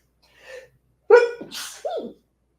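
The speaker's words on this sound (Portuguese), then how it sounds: "Vou espirrar, peraí." A short inhale followed by a single loud, close sneeze and a brief trailing breath.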